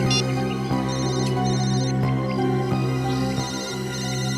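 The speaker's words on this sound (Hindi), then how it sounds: "फोन फिर से बज रहा है सर" A phone ringtone plays steadily and loudly throughout, a sustained electronic melody with repeating tonal patterns and no talking over it.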